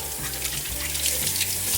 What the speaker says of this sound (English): I'm just using really warm water, getting it all off.